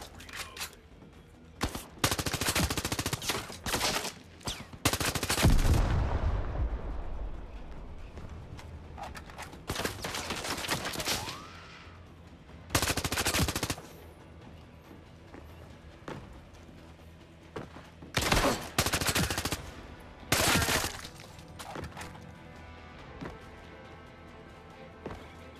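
Gunfire from a tactical weapon in the VR shooter Zero Caliber comes in loud, repeated bursts separated by short pauses, with faint background noise between volleys.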